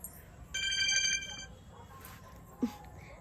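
A phone ringtone chimes briefly with bright repeating tones, fairly faint, then fades into quiet room noise with a small knock near the end.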